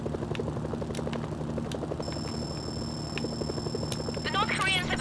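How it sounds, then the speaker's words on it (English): Helicopters in the video game Mercenaries: Playground of Destruction thud with a rapid, steady rotor beat under game sounds. A voice speaks over them, and electronic beeps and chirps come in during the second half. "Incoming helicopters. They'll tear through the tanks."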